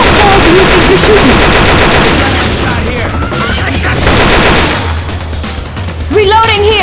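Rapid automatic gunfire in a video game, loud and close, with dense bursts rattling almost continuously under excited shouting voices.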